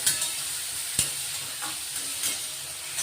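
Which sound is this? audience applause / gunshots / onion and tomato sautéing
onion and tomato sautéing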